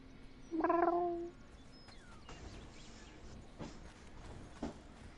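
A cat in the video game Conan Exiles gives one loud drawn-out meow, followed by faint scattered game clicks and soft ambient noise.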